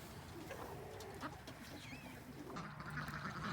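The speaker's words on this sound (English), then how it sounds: "all these ducks are trying to swim in it all the time" Farm birds in a big open pen after heavy rain call softly nearby, low cooing and quacking murmurs with a brief whistle-like chirp, over a steady outdoor background.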